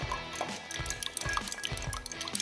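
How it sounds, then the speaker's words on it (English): A big ice cube clinks and swirls as a drink is stirred in a glass, with quick liquid sloshing and light knocks that are close and fairly quiet. "I'm going to start stirring this. I'm going to add a nice big ice cube."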